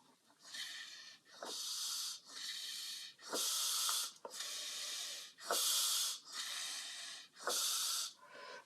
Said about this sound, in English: when we breathe in air through our nose and our mouth